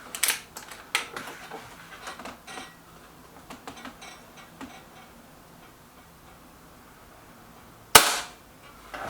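An Artemis P15 air rifle fires during target shooting: a series of light, sharp clicks and ticks, then one loud crisp snap near the end, with quiet gaps between.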